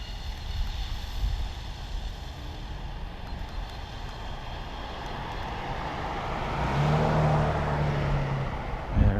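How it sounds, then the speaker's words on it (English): A car passes on a road with a lot of traffic, a rising whoosh and engine rumble that swells toward the end over steady wind and road noise. "There's another car coming."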